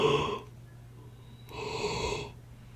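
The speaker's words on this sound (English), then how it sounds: "sorry, yawns." One person yawns close and fairly quietly, with a long breathy intake, a short pause, then a drawn-out exhale.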